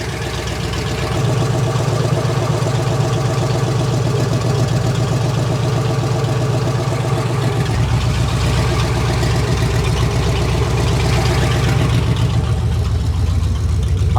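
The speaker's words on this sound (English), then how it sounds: "how a brand new engine started like that with that fuel injection on it" A freshly built 350 Chevy V8 with fuel injection idles loud and close, a steady low rumble with a slight rise in pitch partway through, and no voices over it.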